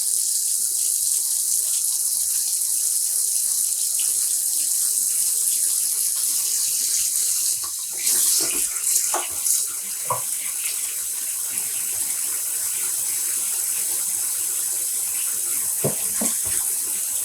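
Cold tap water runs steadily into a tub during yarn dyeing, a continuous hiss with a few brief splashing knocks partway through.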